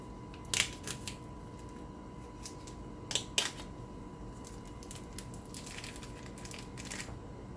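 Scissors snipping open a plastic package of frozen ground turkey: a few sharp close snips and crinkles, two clustered near the start and another pair mid-way, then softer scattered rustling over a quiet background.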